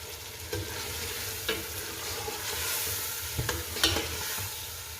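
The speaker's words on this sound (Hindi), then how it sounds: "अब हम इसमें बीफ को डालेंगे और इसको मिक्स कर देंगे।" Beef stirred into softened tomatoes in a pan for biryani, frying with a steady close sizzle and scraping stir strokes at irregular intervals, no voices.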